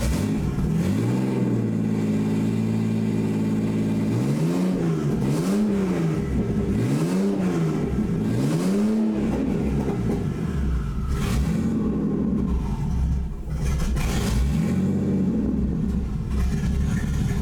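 A car engine runs lean at idle, a steady mid-pitched rumble broken by several rhythmic swells as the revs rise and fall in repeated blips. It sits close and moderately loud, with no voices.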